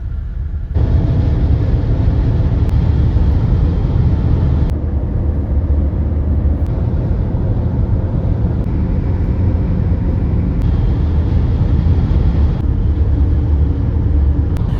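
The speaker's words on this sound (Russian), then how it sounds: "Вот она пробка." Low steady rumble of slow vehicles in a traffic jam near the Crimean Bridge, heard from inside a car as a continuous engine and road drone with occasional shifts in level.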